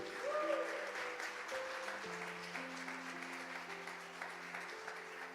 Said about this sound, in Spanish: le dan un fuerte aplauso a Jesucristo